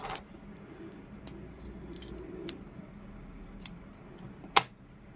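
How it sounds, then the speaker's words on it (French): A few sharp snips of scissors cutting crochet yarn, spaced well apart and close by in an otherwise quiet room. "on coupe le fil"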